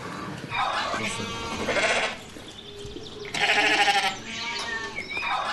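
Sheep bleat loudly and close by on a farm after being drenched, with several long wavering calls spaced a second or two apart over quiet background noise.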